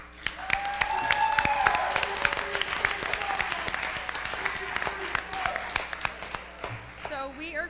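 Clapping from the audience at a high school talent show: a dense burst of applause that swells early and then thins into scattered claps. Voices and a brief whistle-like tone are heard over it.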